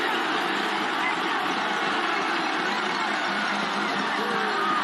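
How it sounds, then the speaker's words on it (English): Rugby crowd at the 2002 NPC final between Waikato and Otago, a continuous distant roar of thousands of spectators shouting and jeering, steady and loud through the whole stretch. "The crowd screaming for offside."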